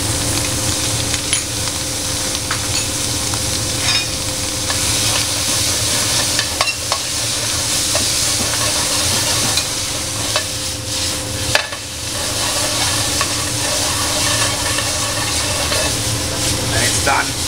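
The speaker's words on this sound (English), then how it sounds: "Caramelized onion." Onion caramelizing in a pan on a restaurant stove, with a steady, loud, continuous sizzle and repeated scraping and stirring throughout.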